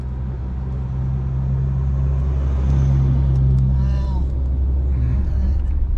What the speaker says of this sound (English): Here's a good looking truck coming along.